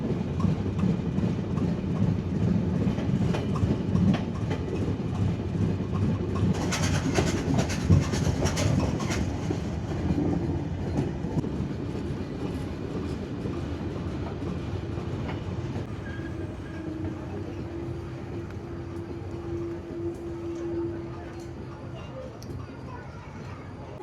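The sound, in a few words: passenger train running into Noapara station, Bangladesh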